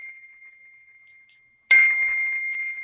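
A phone notification sounds as a bright chime that cuts in suddenly over a faint steady tone and lingers, with no one talking.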